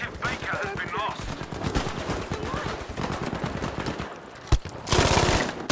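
Machine gun fire in the video game Battlefield 5, likely an MG42, rattles in rapid continuous bursts, with a brief pause and then a louder close burst near the end.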